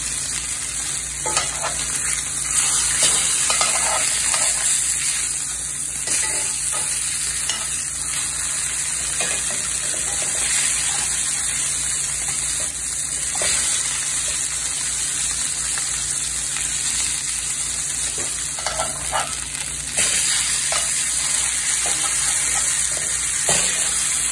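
Steaks sear in a hot cast iron pan as they are flipped repeatedly, giving a loud, continuous sizzle and frying hiss with faint clatter mixed in.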